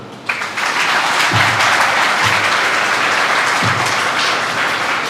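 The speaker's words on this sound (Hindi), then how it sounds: "बजाइए ताली।" An audience breaks into loud, sustained applause at a motivational talk, dense clapping from a large crowd lasting several seconds without speech.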